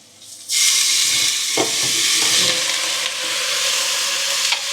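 Food sautéing in a hot pan: a loud, steady sizzle bursts in and holds, with a few stirring scrapes and clicks, close up and alone.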